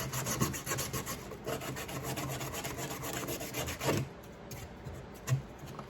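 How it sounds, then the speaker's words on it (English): Rough cut edges on a plastic part for a Lifetime Yukon kayak are smoothed with rapid, rhythmic rasping strokes, filing back and forth close by at a steady pace with short pauses. No one talks. "Smooth up all those edges so we don't have any more rough cuts."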